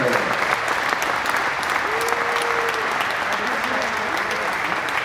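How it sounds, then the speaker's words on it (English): Steady, dense applause fills a bowling tournament gathering honoring a new 50-year club member, with brief voices rising over the clapping. "a final congratulations and round of applause for the latest member of our 50-year club, Mr. Bill Spigner"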